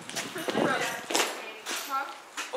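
Horse hooves clip-clopping at a walk in a cutting horse barn setting, a few soft irregular hoof falls close by with talking over them.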